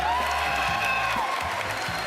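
At E3 2019, a large audience applauds and cheers, a dense roar of clapping with whoops on top that holds steady for about two seconds.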